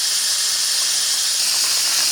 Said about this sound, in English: It is venting steam, so that means it's operating properly.